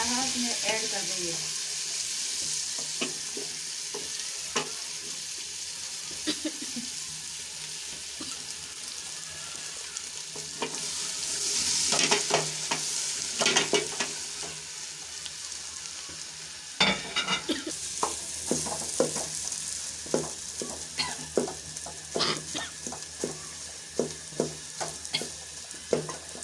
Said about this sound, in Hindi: दस मिनट तक हम इसको ऐसे ही मिक्स करते रहेंगे।